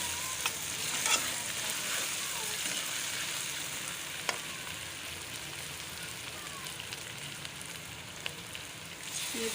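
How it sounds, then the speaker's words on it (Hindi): Onions and spices fry in a pan for a dhaba-style bhindi dish, a steady close sizzle and crackle with a few sharp pops and light stirring scrapes throughout, with no one talking. "प्याज फ्राई हो गया, मैं मसाले शामिल कर रही हूँ।"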